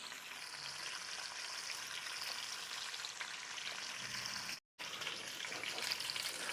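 Green beans and potatoes sizzle and crackle steadily in hot bacon fat, a close, even frying hiss with a brief drop to silence midway.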